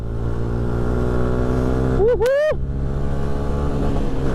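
A modified Yamaha Jupiter MX King motorcycle engine idles loudly and steadily, then revs sharply twice in quick rising bursts before settling back to a rumbling idle.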